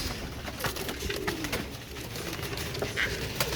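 Pigeons of a heavy-boned, fancy bred collection cooing nearby, repeated soft throaty coos with scattered wing flutters and rustles, no talk.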